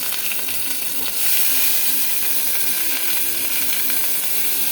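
Tempering spices for rasam spluttering in hot oil, a dense crackling sizzle that swells louder after the first second and holds steady, close by, with faint mechanical clicks and no talking.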